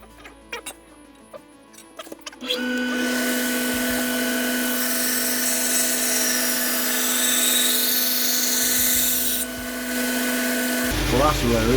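A bench grinder puts a new edge on a Martindale No. 2 golok blade, a loud continuous rasping whine that lasts about eight seconds after a few light knocks and clicks at the start.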